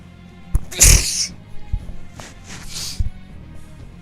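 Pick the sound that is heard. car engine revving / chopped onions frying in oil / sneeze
sneeze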